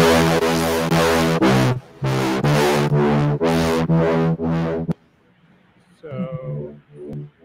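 Distorted output from a synthesizer filter module with a diode ladder filter and OTA VCA, loud and sustained in rhythmic bursts, cutting off about five seconds in, followed by brief quieter tones.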